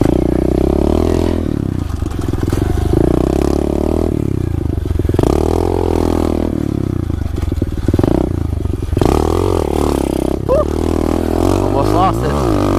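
A 2015 SSR 125 pit bike is ridden hard, its engine revving up and dropping back in repeated surges with rattly mechanical clatter, loud and close throughout, then sputtering and rising again near the end.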